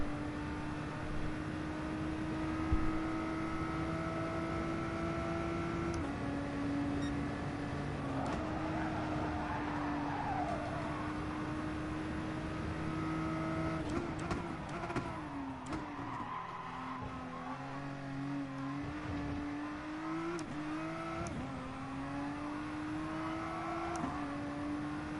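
Race car engine in the GT Sport video game on a warm-up lap, a sustained droning note that shifts pitch through gear changes and braking, with brief tyre squeal and no talk.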